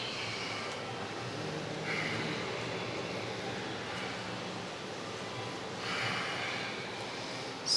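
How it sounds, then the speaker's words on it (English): Strong, steady breathing during a held yoga pose in a power vinyasa class, long airy exhales repeating every couple of seconds over a constant background hiss. "Hold it, 5 strong breaths."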